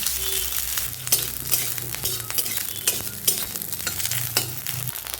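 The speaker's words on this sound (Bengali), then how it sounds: "আর ডাঁটা কাটা ভেজে নেব" Chopped drumstick stalks sizzle in a little hot oil as they are stirred, with repeated metallic scrapes and clicks of a spatula against the pan over a continuous close fry.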